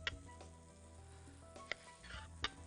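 Chicken frying in a pan gives a faint, steady sizzle with a low hum behind it and a few sharp ticks and clinks of utensils against the pan, with no one speaking.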